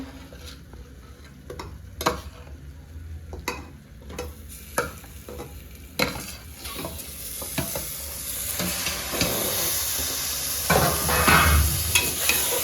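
Mutton sizzling in hot oil while a spoon stirs it, with repeated scraping knocks against the pan. The frying grows louder and denser toward the end, and no one speaks.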